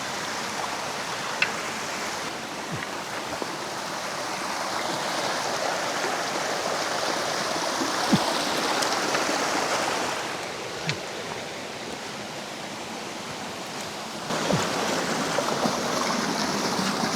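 A small mountain stream runs beside a hiking trail, giving a continuous close rushing wash of water with no voices, swelling slightly midway and again near the end.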